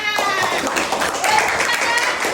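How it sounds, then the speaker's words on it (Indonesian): Students in a classroom clap together in a dense, loud burst of applause lasting a couple of seconds, with voices mixed in. "Tepuk tangan."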